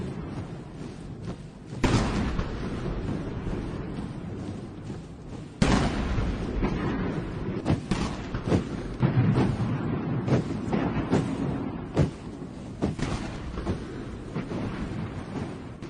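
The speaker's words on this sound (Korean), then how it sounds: "여든 발의 대포가 발사되는 속에 중화인민공화국 국기 개양 의식이 진행됐습니다." An eighty-round artillery salute fires at Tiananmen Square during the national flag-raising ceremony of the People's Republic of China. Heavy booming reports land every few seconds over a steady, rumbling crowd-and-air background.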